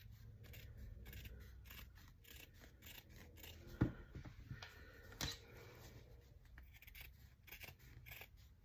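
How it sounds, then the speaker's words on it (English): Scissors trim the edge of punch needle coaster fabric with quiet, repeated snips and rubbing, close but faint, with a couple of sharper clicks in between. "we're gonna trim this down to about 1/2 inch past the edge"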